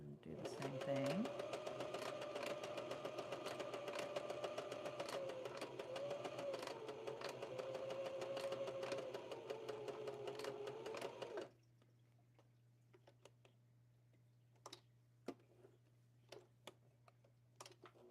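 A sewing machine stitching back and forth on a doll runs in a fast, even mechanical chatter for about eleven seconds, then stops, leaving faint clicks and a low hum.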